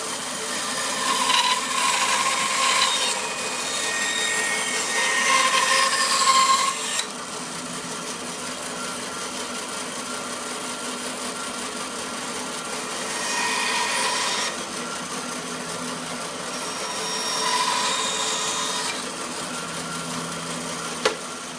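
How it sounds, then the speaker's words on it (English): A 1-inch continental roughing gouge roughs down spinning wood on a lathe, giving a loud, close, hissing scrape in repeated passes that swell and fade with the cut, alone without speech. "Roughing down with a 1-inch continental roughing gouge."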